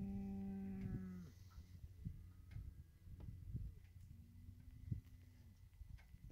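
A longhorn cow lets out a loud, long moo at the start, then a second lower moo follows, with wind and outdoor rumble throughout on a gravel ride.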